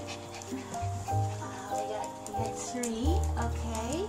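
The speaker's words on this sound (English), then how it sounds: "Puppy, stand up, darling." A five-week-old puppy pants and whimpers up close, with soft high whines rising and falling, while adults and someone talk over it.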